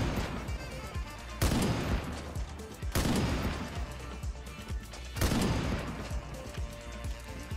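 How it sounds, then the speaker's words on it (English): Sniper rifle shots in the video game Ironsight, three loud sharp blasts spaced about two seconds apart, each with a ringing tail, over a steady game background. "I snipe someone."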